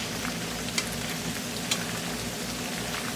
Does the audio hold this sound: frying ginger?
yes